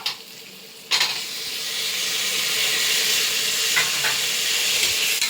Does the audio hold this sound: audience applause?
no